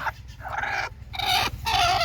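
Native country hens cluck nearby in a few short, throaty bursts over a low steady background hum.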